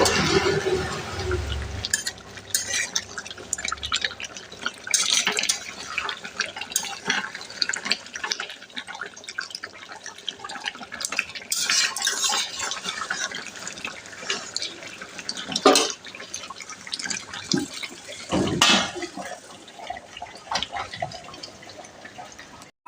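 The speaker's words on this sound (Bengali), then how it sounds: "খাবার জলও ভরে নিলাম" Water runs from a tap while drinking water is filled into a container, a steady rushing splash with dripping and shifting flow, close and fairly loud, with no talking.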